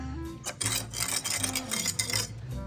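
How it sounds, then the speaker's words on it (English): Spoon scraping and clinking in a small bowl while whisking an Asian oyster dressing of soy, black vinegar and lime juice, a steady close-up rasping swirl in a caravan kitchen. "Stir that up. There's the dressing for the watermelon Asian oyster."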